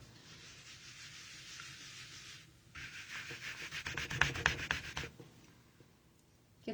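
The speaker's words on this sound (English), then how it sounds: "And I use my scrubber here." Rubber stamps being scrubbed clean on a stamp scrubber pad, a close, steady rubbing that swells into quicker, louder strokes near the end before tapering off.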